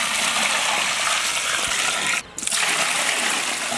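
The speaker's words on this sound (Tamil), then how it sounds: "அதுக்கேற்ற மாதிரி தண்ணி ஊற்றிக்கிறேன்." Steady rushing of water pouring continuously into a cooking pot of basmati rice, loud and close, with a brief dip in the flow partway through before it resumes.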